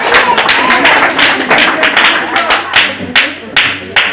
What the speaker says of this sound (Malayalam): എല്ലാരും കൈയടിച്ച് പ്രോത്സാഹിപ്പിക്കും.